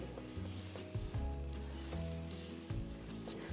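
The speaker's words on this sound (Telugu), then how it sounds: "కుండలో వేసిన బటర్ కూడా మంచిగా మరుగుతుంది" Butter sizzles steadily in a clay pot for a kunda biryani, a continuous close hiss with a low hum beneath, no voices.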